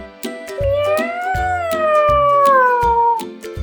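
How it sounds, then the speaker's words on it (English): A cat meows in a long, rising then slowly falling cry with clear harmonic tone, loud and close, set against a steady rhythmic backing beat. "I am a cat."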